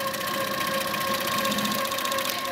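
An HQ Sweet Sixteen quilting machine stitching swirls gives a steady, close mechanical hum and rapid whirr throughout the short stretch, with no talking.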